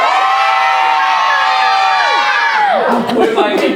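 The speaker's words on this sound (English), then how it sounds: "I need the biggest library cheer." Library audience at the Camp Verde Community Library in Arizona bursts into a loud, sustained group cheer and whoops, near and lively, fading into scattered shouts.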